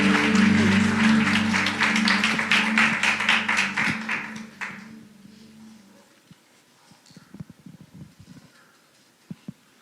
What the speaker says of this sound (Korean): 우리 큰 박수로 환영해 주시면 감사하겠습니다